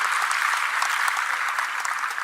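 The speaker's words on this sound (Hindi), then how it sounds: "तालियों से शुभकामनाएं और बधाइयां दें।" Audience applause at a ceremony honouring UPSC candidates in Bhopal, a sustained dense patter of many hands clapping at an even level, with no speech over it.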